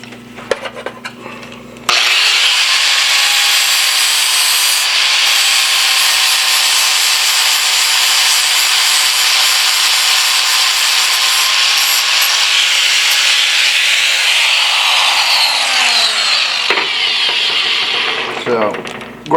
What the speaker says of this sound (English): grind a little radius on there, and then just mark our piece out